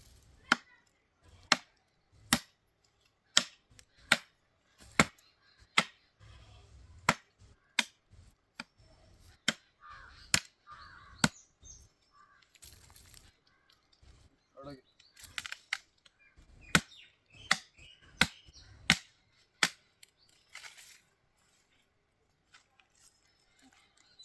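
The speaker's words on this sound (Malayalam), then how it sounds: "അപ്പോൾ നമുക്ക് ആ മെയിൻ തണ്ടെല്ലാം ഒന്ന് നീളം കുറച്ചെടുക്കാം" Cassava plant main stems being chopped shorter at a farm, a series of sharp, crisp cutting strikes at irregular intervals, close and clear, with quieter rustling of handled stalks in between.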